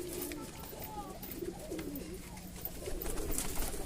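A Kalshera pigeon coos softly in low repeated phrases, fairly faint, with background noise and a voice nearby.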